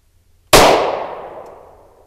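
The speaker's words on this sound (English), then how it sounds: "Yeah, I hit the flapper again." A single sharp metallic clang from a bullet fired by a Ruger Security-9 pistol striking a steel flapper target, loud and sudden with a long ringing decay, no voices.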